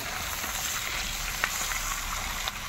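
Small fish frying in hot oil, a steady dense sizzle throughout with a couple of faint pops, quiet and continuous with no voices.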